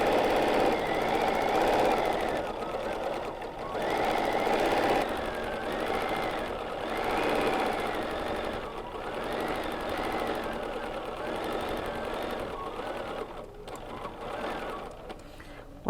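Sewing machine quilting long vertical lines, a continuous close mechanical hum with a fast needle rhythm that swells and eases in several runs over sixteen seconds, with no talk.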